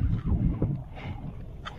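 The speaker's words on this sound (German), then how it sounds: "Windet auch ganz schön." Gusty wind buffets the microphone high on a mountain at almost 4000 metres during a summer trip in Italy, a low, rough rumble that is strongest at the start and then settles into a steadier blow.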